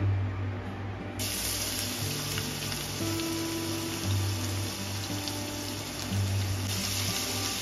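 Garlic paste frying in hot oil in a pan, giving a steady close hiss and sizzle that runs through the whole stretch, with a low hum underneath.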